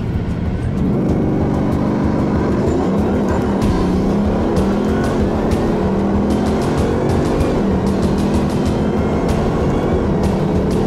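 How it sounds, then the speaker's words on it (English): A Bugatti Veyron Supersport engine revs at full throttle with a loud, sustained roar that climbs steadily in pitch as it accelerates, filling the clip without talk. "First time in the Bugatti Veyron Supersport, and I'm about to put the throttle all the way down for the first time."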